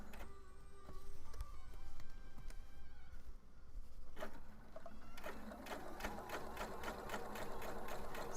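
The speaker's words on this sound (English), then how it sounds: "time to go back and sew this down" A sewing machine stitches fabric for a Nintendo-themed craft, faint and close, with a fast rhythmic needle clatter that grows busier and denser toward the end, with no voices.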